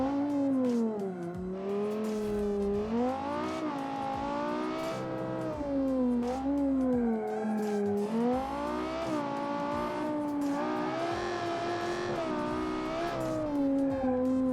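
A stock car engine in the Automation racing game revs and pulls continuously, its strong harmonic drone rising and falling through repeated gear changes, loud and close with no talking.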